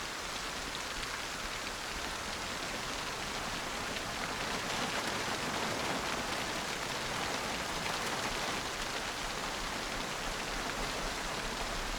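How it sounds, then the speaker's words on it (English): Heavy rain in Project Zomboid pours steadily and loudly, a dense unbroken hiss of drops with no voices. "Man, that rain is loud."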